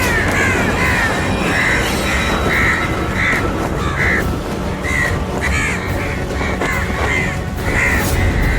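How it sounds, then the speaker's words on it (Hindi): Several crows caw in a repeated, steady series of harsh calls, fairly loud and close, over a constant dense background noise, with no talking. "वो कौवे टकरा गए हैं।"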